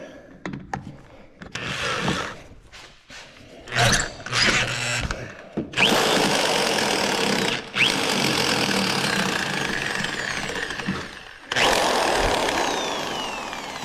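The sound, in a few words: drill bit drilling through brake part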